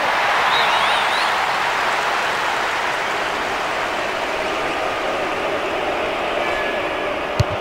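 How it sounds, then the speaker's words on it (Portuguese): A stadium crowd in the eFootball 2022 video game keeps up a loud, steady wash of booing aimed at both teams, continuous and unbroken throughout. "A torcida continua irritada, vaiando os dois times."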